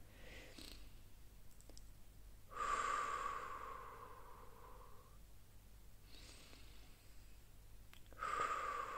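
Deep breathing during a pilates exercise, with two long, audible breaths several seconds apart separated by faint clicks and quiet room noise.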